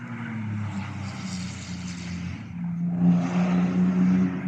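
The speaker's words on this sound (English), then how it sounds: "Oh man, Boxster sounds so good." A Porsche Boxster's engine drones past on the Cadwell Park race track at a track day, a steady hum that swells louder toward the end as the car nears.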